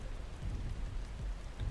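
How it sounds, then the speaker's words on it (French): Steady rain patters continuously in the video game Black Skylands, a dense wash of droplets with low rumbling beneath, no voices present. "En plus, il pleut."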